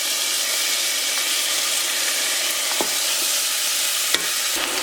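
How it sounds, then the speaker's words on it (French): Chopped onions frying in olive oil in a pot, a loud steady sizzle with a few small clinks and stirs, no talking. "Et ensuite, on va verser directement les oignons."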